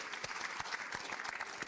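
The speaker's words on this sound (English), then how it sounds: "So big round of applause." Brief burst of audience applause, a crowd of hands clapping steadily at moderate volume throughout.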